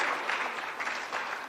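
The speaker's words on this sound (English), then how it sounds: "Please give a round of applause to Victor and Amir as well." A conference audience in Kenya claps, a soft, fairly even patter of many hands that swells slightly and then tapers, heard from a short distance with no voices over it.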